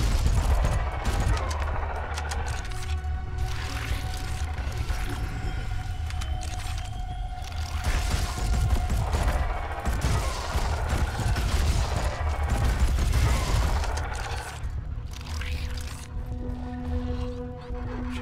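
Dense, continuous gunfire from shooting enemies in the video game RipOut: loud, rapid bursts run almost without pause over a heavy low rumble, with mechanical clanks and a faint voice in the mix.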